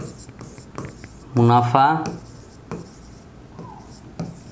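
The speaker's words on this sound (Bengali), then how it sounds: "মুনাফা জাতীয় ব্যয়ের জন্য শিরোনাম লিখব" Pen scratching out a heading on paper during a handwritten accounting lesson, soft, close scritching strokes with a brief spoken word over the middle.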